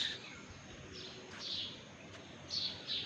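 Faint, high bird chirps come in short bursts over a quiet outdoor hush, a few calls spaced across the moment.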